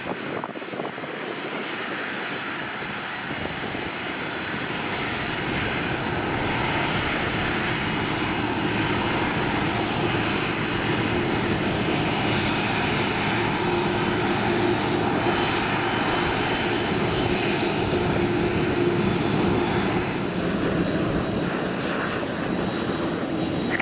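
American Airlines airliner taking off from runway 30 left at Minneapolis–St. Paul airport, a sustained loud jet engine roar building and holding throughout, heard from nearby outdoors.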